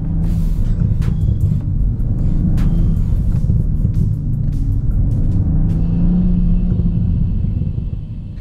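Steady low engine rumble inside a BMW M340i in sport mode, with a deep, continuous engineered exhaust burble throughout, loud and close, with occasional faint pops.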